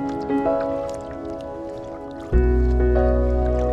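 Boat paddled on water at Bearspaw, with soft drips and squishy splashes over a steady low hum that turns abruptly louder and fuller partway through.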